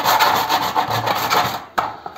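Knife cutting chilled bici bici, a Turkish starch pudding, into pieces, heard as soft close scraping strokes followed by a couple of sharp taps at the end.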